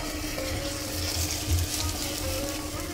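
Maggi noodles fry in oil in a hot pan with a constant, dense sizzle and occasional soft stirring scrapes, close up and steady, with no talking.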